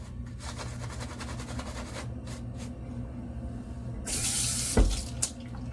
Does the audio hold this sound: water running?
yes